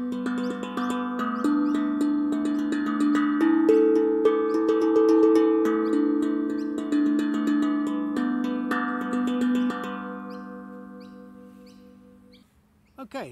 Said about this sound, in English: on the tongue drum, we can play around with different positions and tempos